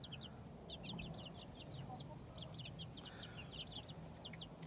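A Frizzle chicken in a backyard coop gives soft, repeated clucks and chirpy calls in quick bursts, fairly near, over a steady low outdoor rumble.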